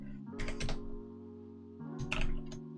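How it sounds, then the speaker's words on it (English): Typing on a computer keyboard while building a weather forecast web app in React and Tailwind CSS: two short bursts of quick key clicks over a steady low hum, no talk. "I'm just going to type out these classes, as typing without speaking goes a bit faster than speaking and typing"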